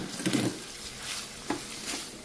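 Spinach and pasta stirred together in a hot pan with a soft sizzle, with a few scraping strokes and light clinks of a utensil against the pan, close and fairly quiet.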